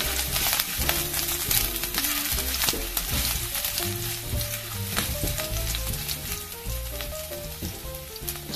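Food stirred as it fries in a pan, with garlic and other aromatics tossed in hot oil: a loud, steady sizzle and crackle runs throughout, with scraping stir strokes and clinks layered over it.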